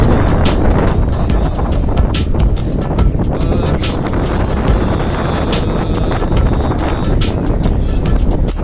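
Strong wind buffets the microphone while cycling along a seafront in Turkey, a constant loud roaring rumble with gusty bursts and scattered clicks throughout.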